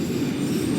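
An NYC Subway R142A 4 local train in the OpenBVE simulator runs along the track with a steady low rumble, rhythmic wheel clatter and a faint squeal, close and continuous without talk.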